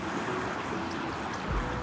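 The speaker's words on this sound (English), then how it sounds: "enjoy the sound of the water" Water washes and rushes steadily near a shaded tree outdoors, a continuous soft broadband wash with light wind noise and no distinct events, fairly quiet throughout.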